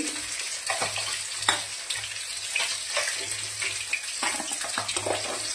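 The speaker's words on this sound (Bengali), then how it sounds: "এই যে মাছের মাথাগুলো আমার ভাজা হয়ে গেছে, প্রচন্ড ফাটছে।" Fish heads marinated in vinegar and lemon juice fry in oil, crackling and popping sharply in irregular bursts over a soft steady sizzle, fairly quiet and close, with no talk.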